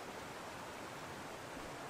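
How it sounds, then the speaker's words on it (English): A waterfall beside a handmade wooden gazebo rushes in a steady, soft, broadband wash, continuous and unbroken with no other sounds on top. "Right by the waterfall, of course."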